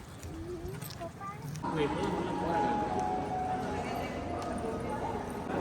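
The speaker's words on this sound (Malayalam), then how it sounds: "ഒരു കുതിര." A horse heard amid background commotion, with clip-clopping hooves and a drawn-out whinny rising over a busy, echoing space.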